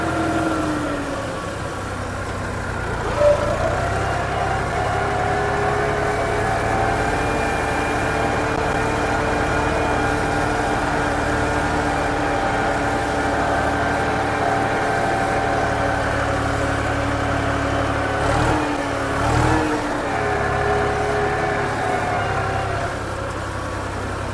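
A Massey Ferguson 260 DI tractor with about 70 hours of use and a blue-smoke fault idles with a steady diesel rumble close by, with a couple of brief revs along the way.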